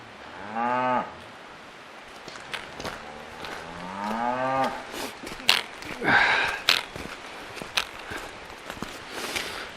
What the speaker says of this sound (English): I've never seen black Highland cattle before.